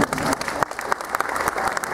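Steady audience applause at the Ekka show during a horsemanship display, many hands clapping at once in a dense, continuous patter with a few sharper claps standing out.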